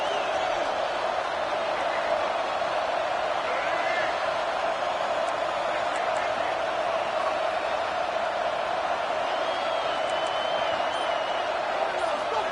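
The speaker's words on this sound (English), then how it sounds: "Listen to the crowd energy here in the early going." A college football stadium crowd fills the air with a steady, distant roar, with a commentator talking over it throughout.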